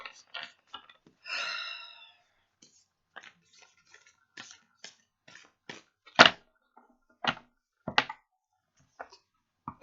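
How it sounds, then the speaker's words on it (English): An oracle card deck is shuffled by hand. A brief riffling burst comes early, then a series of sharp, separate card taps and snaps at irregular intervals, close and alone in a quiet room. "So let me do a real shuffle this time"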